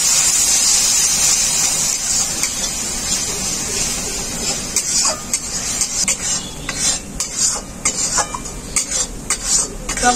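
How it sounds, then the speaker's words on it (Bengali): Spice paste frying with sour split yogurt for a paneer curry, stirred steadily with a utensil that scrapes and clinks against the pan over a continuous close sizzle. No one speaks. "টক দইটা দেওয়ার পর মশলাটাকে খুব ভালো করে কষিয়ে নিয়েছি।"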